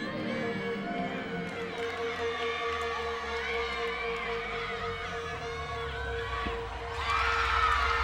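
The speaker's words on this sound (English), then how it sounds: "you just heard some of the Eagles cheering on their teammates" Kent State gymnastics teammates cheering during a meet against Eastern Michigan, a distant arena crowd of shouts and whoops picked up by a crowd mic, swelling louder at the end.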